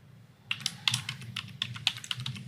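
Steady, rapid typing on a computer keyboard, close up, a dense run of clicky keystrokes with a few louder taps.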